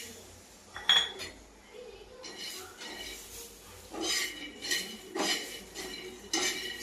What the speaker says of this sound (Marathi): आता आपण भाजणार आहोत शेंगदाणे।